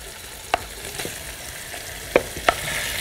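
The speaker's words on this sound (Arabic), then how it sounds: "ابدا اشوح اللحمه اللي انا هسلقها" Meat sautés in a pot, giving a steady low sizzle broken by a few sharp clinks and scrapes of a spoon stirring against the metal, close and with no talk.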